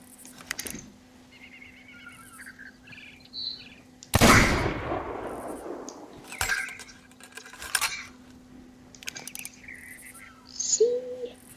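A gunshot or cannon blast in the Sea of Thieves pirate game bursts loudly once mid-clip and decays slowly, surrounded by clinking, metallic game effects and quieter ambient sounds.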